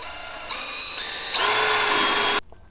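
A power drill whirs up in rising steps, grinding through the center of a rubber grommet at close range before abruptly stopping.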